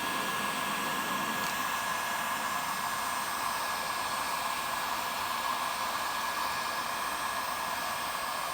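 A heat gun warms the DW Collectors Series FinishPly wrap on a drum shell to loosen it, giving a steady, close, continuous blowing hiss with no talk.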